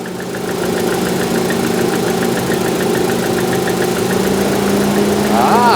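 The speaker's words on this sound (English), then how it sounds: "Ah yeah, there's an audible change in the fan speed there." Engine cooling fan on a Rover 75, forced on by a disconnected thermistor wire, drones steadily beside the idling engine, with a subtle shift in pitch as it steps up to its faster speed; no talk over it.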